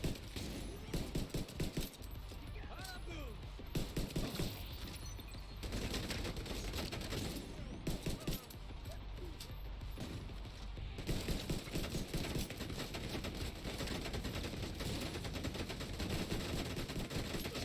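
Heavy automatic gunfire from The Division 2 rattles in long dense bursts with short gaps, loud and close and filling the whole stretch, with no speech.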